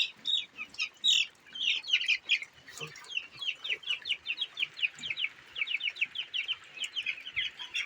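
Continuous high-pitched cheeping from many chicks, a steady rapid chatter with occasional lower clucks mixed in, fairly close.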